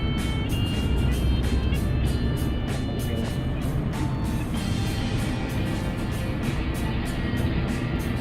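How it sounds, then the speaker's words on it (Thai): Scania R 500 V8 truck engine pulling away, a steady loud low rumble that holds throughout, with talking voices over it. "นี่รถเบานี่ก็ออกตัวเร็วเร็วเลยเนาะ"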